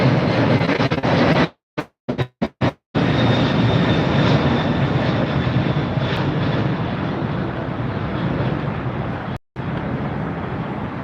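A FedEx cargo jet takes off at Los Angeles International, a loud, continuous, close engine roar that fills the whole stretch, broken by several brief dropouts.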